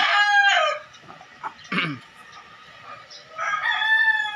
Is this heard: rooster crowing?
yes